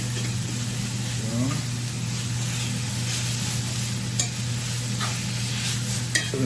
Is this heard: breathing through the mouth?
no